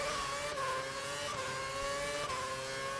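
A rival Formula 1 car's engine whines close behind in the F1 2011 racing game at the German race, a continuous high-pitched engine drone with gear-change steps, loud and alone.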